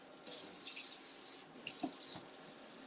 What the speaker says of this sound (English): I'm gonna give them a rinse underneath